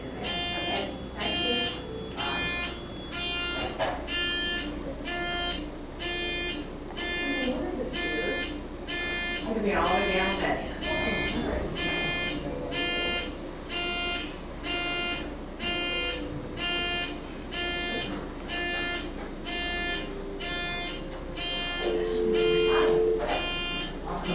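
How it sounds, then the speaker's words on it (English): A loud electronic alarm buzzer in an elevator pulses in steady, evenly spaced bursts, repeating over and over with brief murmurs of background noise between beeps. "Sounds like a fire alarm."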